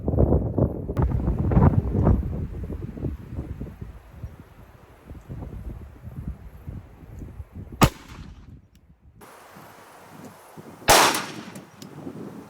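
A .45 ACP pistol firing 185 grain silver tip rounds outdoors: two sharp, loud reports several seconds apart, the first preceded by gusty wind rumble against the microphone.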